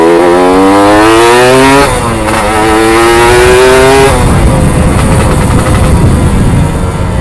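A Suzuki RGR two-stroke motorcycle with a short AHM exhaust and short gearing revs hard up close, its loud buzzing engine note climbing in pitch, dipping at a gear change, then rising again.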